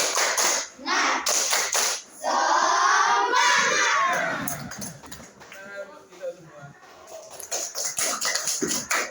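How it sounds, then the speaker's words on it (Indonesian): Children chant and shout together in an Indonesian 'tepuk semangat' spirit clap, with bursts of quick rhythmic clapping at the start and end, their voices loud and close. "Mari kita lakukan tepuk semangat."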